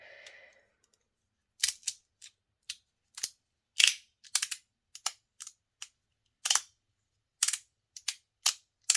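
After a faint hum, a string of sharp, dry snaps and clicks from a Magic Play T3 magnetic lid closing on Teflon comes at irregular intervals, close and fairly quiet, each one short and crackly.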